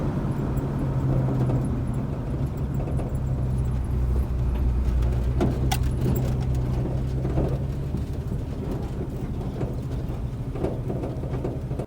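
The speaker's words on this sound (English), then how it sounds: "Just another day plugging down the road in an old Studebaker truck." An old Studebaker truck drives down the road on a chilly evening, its low engine drone and road rumble steady throughout, with scattered clicks and rattles from the cab and no talking.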